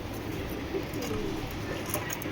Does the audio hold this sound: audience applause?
no